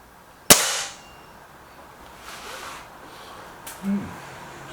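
A single .22 pellet air gun shot fired with JSP pellets: one sharp, loud crack with a brief tail, then quiet room noise and a faint later knock and thud.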